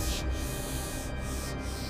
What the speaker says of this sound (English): Fine micro sanding for surface perfection.